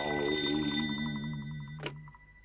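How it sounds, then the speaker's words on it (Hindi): A telephone rings with a bright electronic trill of rapid repeating pulses, close and clear. A short sharp chime cuts in near the end, and no one speaks. "अब मैं उसे फोन करके पूछता हूँ।"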